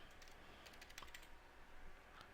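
Quiet computer keyboard typing while configuring a firewall, a few light scattered key clicks over a low steady background hiss.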